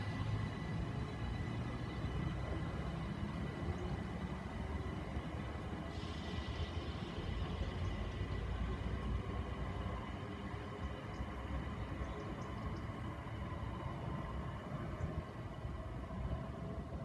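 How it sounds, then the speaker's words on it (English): A Southern passenger service pulls into Worthing station, its low, steady rumble rolling through the platform for the whole stretch, with a faint high squeal of wheels or brakes partway along. "Now arriving in is the 1726 Southern Service to Brighton."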